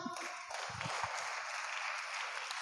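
A church congregation breaks into sustained clapping, a fairly even wash of many hands after a brief low sound at the start, without speech over it.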